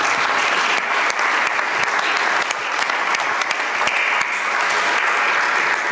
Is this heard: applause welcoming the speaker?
yes